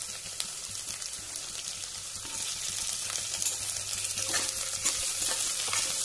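Okra (ladyfinger) and green chillies frying in hot oil in a pan for a Konkani bhindi curry, giving a steady, dense sizzle with crackling pops that grows slightly louder partway through.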